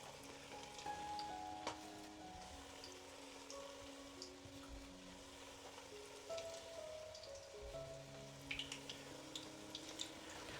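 Quiet, steady sizzling and crackling of six meatballs frying in hot oil in a preheated pot, with occasional faint clinks, no voices.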